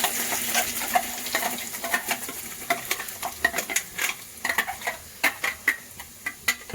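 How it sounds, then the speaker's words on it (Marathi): Garlic tempering sizzles in hot oil for a spicy pomfret masala, with a steady crackle and frequent sharp pops and spits near the mic. No one speaks. "लसूणची फोडणी देत आहो मस्तपैकी."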